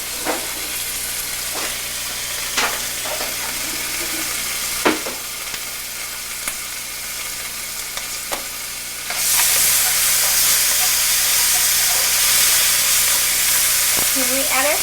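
Ginger stir-fries in a pan with a steady sizzle, punctuated by several sharp spatula scrapes and clicks, then a sudden louder, hissing burst of frying takes over for the final few seconds.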